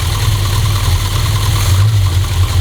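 A 1982 Ford Fiesta XR2 engine idles steadily on its automatic choke, a loud, continuous low rumble with a slight uneven throb and no voices over it.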